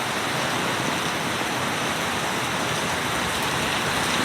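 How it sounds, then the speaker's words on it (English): Torrential rainstorm pours down steadily in Deerfield Beach, Florida, a dense, unbroken roar of heavy rain close by with no voices, holding constant for the whole stretch. "I've seen a rainstorm this bad, but not that often in my life."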